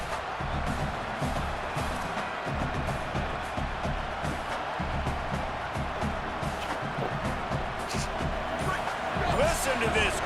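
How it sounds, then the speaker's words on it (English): A dense, continuous roar of a large crowd, steady and loud throughout, with thumps and scattered shouts mixed in. "Listen to this crowd"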